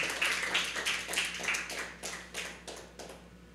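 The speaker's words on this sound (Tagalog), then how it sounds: "Pwede po ba nating bigyan ng palakpak ang Panginoon?" A church congregation claps for several seconds in a sermon setting, with a burst of close, fairly loud hand claps that settles into a steady, rhythmic beat and then fades.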